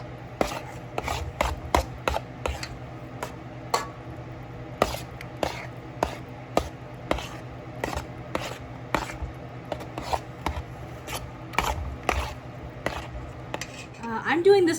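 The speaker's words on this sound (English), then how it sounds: "you're gonna wanna thoroughly mix it. Until homogeneous." Spoon stirring yogurt in a bowl until smooth, a steady series of soft scraping knocks repeating about every half second against the bowl, close and fairly quiet, with a slight clatter at the end.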